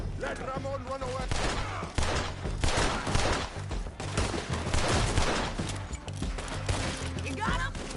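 Rapid gunfire from the video game Red Dead Redemption 2 crackles in dense volleys, loud and continuous, with shouted voices mixed in among the shots.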